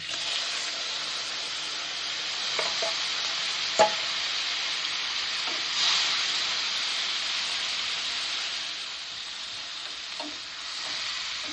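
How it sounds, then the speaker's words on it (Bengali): Cumin seeds with garlic and onion paste frying in oil for a Bengali bhetki fish curry, giving a steady broadband sizzle throughout with a few brief stirring clicks and knocks, heard close and alone. "জিরে ফোড়ন দিয়ে দিলাম প্রথমে রসুন রসুন বাটা এরপর দিয়ে দেব পেঁয়াজ বাটা"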